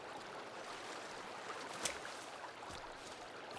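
Waterfall in the Sons of the Forest video game: a steady, soft hiss of rushing water, constant and somewhat distant, with no talk.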